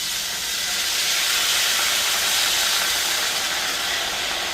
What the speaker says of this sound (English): What we want to do is we want to deglaze that a little bit. So I'm going to start off with the Guinness beer.